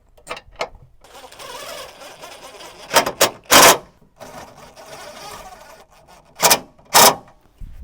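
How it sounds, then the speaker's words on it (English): A wrench tightens the radiator bolts on a Chevrolet Silverado during an AC condenser replacement, with close, rapid ratcheting clicks in short, loud bursts separated by quieter handling noise. "Now we can put our radiator bolts back."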